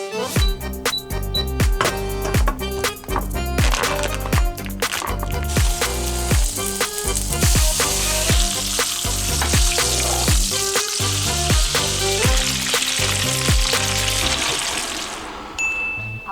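T-bone steak frying in a cheap wok on an electric stove, with a steady sizzle running under a loud, rhythmic musical backing and a few sharp clinks near the end.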